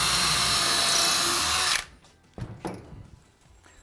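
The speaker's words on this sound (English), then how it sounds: "So drill four clearance holes into this back section of timber here." A power drill whines loudly for nearly two seconds, drilling a clearance hole into timber, then stops, followed by a few knocks and handling sounds.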